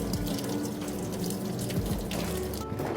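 Water runs steadily through a sheep's head as it is rinsed out during cleaning, a constant close gush and splash with gurgling bursts over running tap flow.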